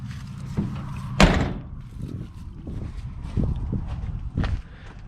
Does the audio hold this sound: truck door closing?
yes